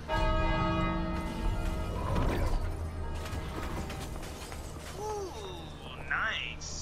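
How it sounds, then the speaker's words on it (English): A large bell rings in the snowy level of the co-op video game It Takes Two. One strong, resonant strike rings out with a long, humming decay, followed by mechanical clanks and game effects as players talk over it. "Now it's my turn to ring that bell."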